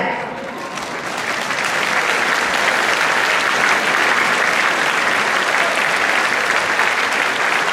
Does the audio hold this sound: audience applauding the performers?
yes